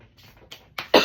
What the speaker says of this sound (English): cough going on right now